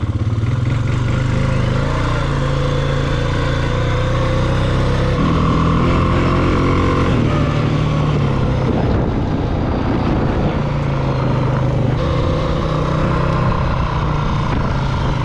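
A four-wheeler ATV engine running loud and close while driving, a continuous droning roar that shifts pitch as the revs rise and fall, with no talking.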